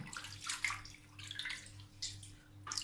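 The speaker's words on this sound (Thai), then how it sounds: "เราเริ่มมาทำการล้าง" Water splashes and sloshes in irregular bursts as fishing net thread is rinsed by hand before dyeing, close and fairly quiet over a low steady hum.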